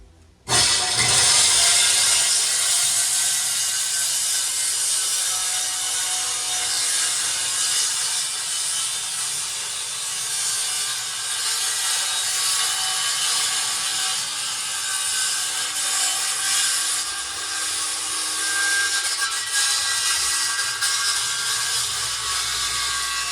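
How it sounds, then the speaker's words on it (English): Saw run down the middle of the gap between wooden deck planks to clean out the joint, a loud continuous rasping cut that holds steady for over twenty seconds with no talking. "I'll just set the saw right down in the middle of that track"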